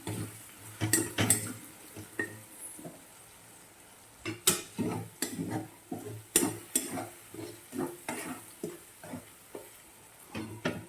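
Spiced curry of fenugreek leaves, green peas and potatoes being stirred in a pan: a spoon scrapes and clacks against the metal in irregular strokes, with a soft sizzle underneath, close and alone with no voices.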